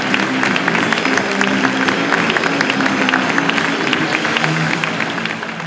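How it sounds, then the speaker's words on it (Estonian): Audience applause and ovation in a sold-out cinema hall after a film screening, a dense steady wash of clapping from a large crowd that fades slightly toward the end. "Film lõpeb ja vaatajad tänavad tegijaid ovatsioonidega."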